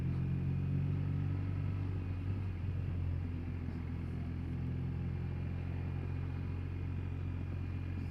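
A motorcycle engine on a highway ride comes back on the throttle after a downshift, a steady low rumble droning continuously at close range with a faint lift in pitch early on.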